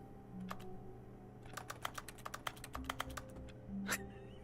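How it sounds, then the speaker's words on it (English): Faint, quick computer keyboard clicks come in a rapid cluster of taps during WASD movement in The Stanley Parable Ultra Deluxe, set against a quiet background hum. "You laughing about the keyboard clicks?"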